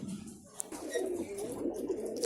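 Pigeons coo in a low, continuous murmur while being shut into their coop boxes for the evening after drinking water and eating almonds, a steady burble close by with faint background noise.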